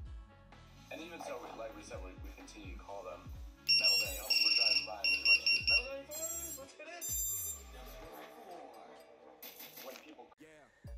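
A small buzzer fitted to a custom-built drone, partly covered with tape, sounds in short, loud, shrill beeping bursts, clustered in the middle, over a busy background of speech.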